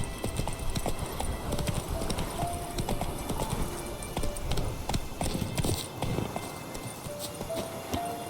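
A horse galloping in the video game The Witcher 3, with rapid rhythmic hoofbeats pounding steadily and loudly throughout, over a continuous rushing background.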